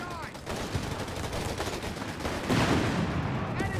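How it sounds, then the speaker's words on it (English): Mortar blasts and gunfire from a Company of Heroes 3 match, Afrika Korps against US forces, in a continuous dense clatter of shots and explosions with a heavier burst near the end, partly under a commentator's voice. "Mortar firing down death here."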